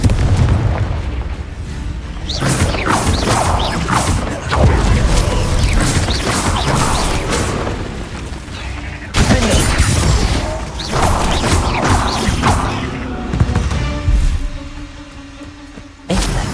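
Confringo spell explosions in the video game Hogwarts Legacy, loud booming blasts and crashing bursts that fill nearly the whole stretch with dense, continuous combat noise and a few sharp breaks.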